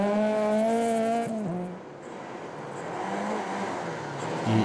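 Powerful rally car of nearly 300 horsepower on gravel, its engine note rising in steady tones before a sharp downshift and lift, then a rougher, noisier stretch as it passes nearby, loud and alone.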